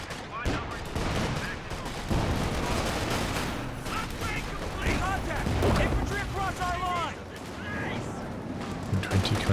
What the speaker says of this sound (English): Popping off some shots from long range.